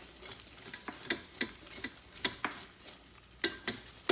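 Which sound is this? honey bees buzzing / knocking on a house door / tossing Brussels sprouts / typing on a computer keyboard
tossing Brussels sprouts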